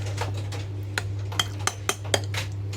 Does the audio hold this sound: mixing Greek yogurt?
yes